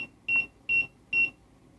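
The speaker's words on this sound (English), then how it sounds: "And then you set a timer" A kitchen oven timer gives three evenly spaced electronic beeps, each about a fifth of a second long, clear and close in an otherwise quiet room.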